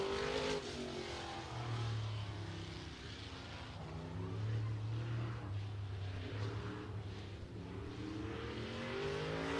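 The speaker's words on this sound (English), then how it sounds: "Steve Durham takes the green flag in that good-looking race car." A race car on a qualifying lap at F8 Showtime Speedway in Pinellas Park, Florida, its engine droning steadily at a distance throughout, with the pitch rising and falling as it circles the track.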